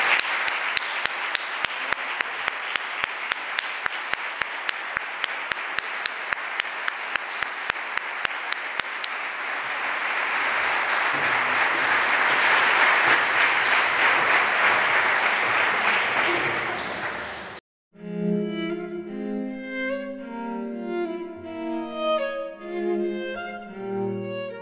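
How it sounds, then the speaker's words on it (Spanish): A crowd at a tribute to health workers in Paymogo gives long, warm applause, dense and sustained for about seventeen seconds before cutting off, followed by a voice or music. "Yo quiero que le dediquemos a todos ellos un calurosísimo"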